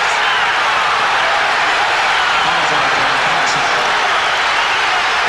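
Dense, roaring crowd noise fills a basketball arena after a foul in a 1992 Chicago Bulls at Detroit Pistons NBA game, steady and loud throughout.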